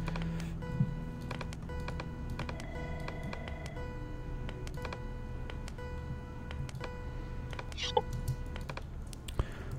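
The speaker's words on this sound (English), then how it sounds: "I don't like that clicking noise." Rapid, irregular clicking runs throughout over a steady tonal hum, with a few sharper clicks standing out.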